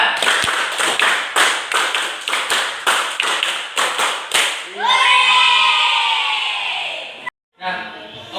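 A classroom of schoolchildren claps in unison, about a dozen sharp rhythmic claps in quick succession, followed by children's voices cheering and chattering loudly.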